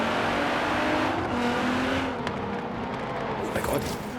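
Nissan GT-R, the 565 hp 2017 model, races through a forest track in Forza Horizon 3, its engine droning steadily and loudly with a brief surge, while a voice talks over it.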